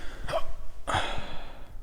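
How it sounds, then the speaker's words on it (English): Two sharp hiccups from a man back home after a night out, spaced about half a second apart, close and fairly loud, with quiet room tone between them. "I got the hiccups, which is a little annoying."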